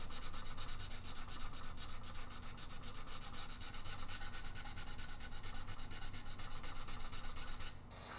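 Steady, continuous rubbing of sandpaper on wood while a guitar is being built, a close, even scratching texture with rapid strokes that runs for about eight seconds before stopping abruptly near the end.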